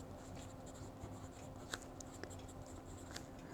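A TWSBI Eco fountain pen with a medium nib scratches quietly across paper in a soft, continuous stroke, with a few faint ticks and taps, close up and low in level.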